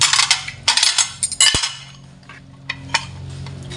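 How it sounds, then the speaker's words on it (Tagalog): Plates, pots and cutlery clink and clatter in a sink during dishwashing, a run of close, sharp ceramic knocks and scrapes over the first half, then a quieter stretch with a few isolated clinks. "Hugas tayo ng plato."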